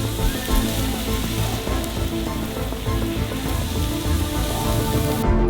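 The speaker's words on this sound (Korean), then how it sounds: "연기 맛을 위해 수프에 불타는 통나물을" Steady, loud sizzling and hissing without pause as a burning log is dipped into fish soup, crackling continuously throughout.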